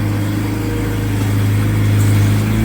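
A skid steer rolls into a newly opened basement, its diesel engine droning loud and close in a steady, slightly rising rumble for a few seconds.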